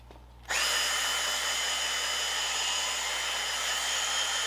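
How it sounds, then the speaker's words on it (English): A power drill buffing a granite countertop starts abruptly and whirs at a steady, loud high pitch without pause, a continuous grinding hum close by. "You can buff these counters with a drill."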